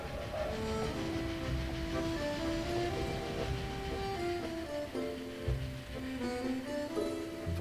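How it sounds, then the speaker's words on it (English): Steady rumble and rattle of a train journey in the video game Dracula 3, with a continuous rolling drone and clatter under faint shifting musical tones, no speech. "I took the train for Bucharest, then Constantinople."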